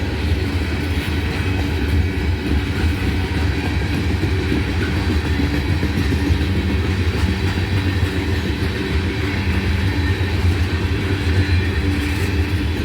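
A CSX freight train hauling auto rack cars and tank cars of liquid petroleum gas rolls past at close range, a loud continuous rumble with wheel clatter throughout and no voices.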